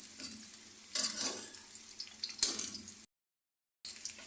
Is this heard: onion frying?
yes